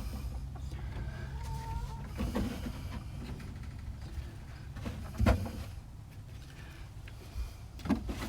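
Hens in a backyard laying flock of twelve, with soft, scattered clucks and a few sharper calls over a steady low rumble of outdoor background noise.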